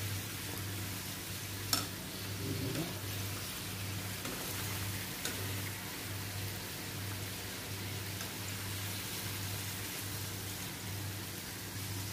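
Karanji pastries frying in hot oil, a steady soft crackling sizzle running throughout with a low hum underneath and a couple of faint clicks, no talk.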